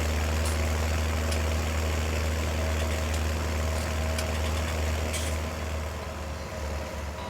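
A Deutz-Fahr tractor engine idles in Farming Simulator 19, a steady low diesel drone with a constant hum that holds at an even level throughout, no voices over it.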